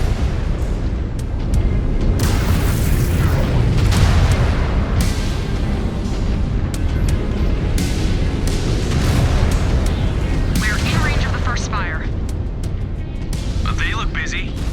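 Missile explosions in MechWarrior 5 Clans, a dense continuous roar of booming blasts and rumbling combat with voices talking over it.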